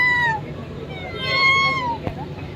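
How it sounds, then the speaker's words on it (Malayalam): A cat in a busy shop-lined area of Delhi gives a few drawn-out, high meows close by, over a low murmur of street background. "ഒരു പൂച്ച"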